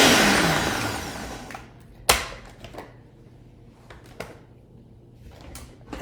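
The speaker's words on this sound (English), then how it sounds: "put your leaves in a food processor or a blender of some kind, and just let that do the work. And this is going to be noisy." A food processor whirs loudly at the start while it chops salad leaves, then winds down into quiet handling, with a sharp clack and several lighter knocks and clicks of the bowl and lid.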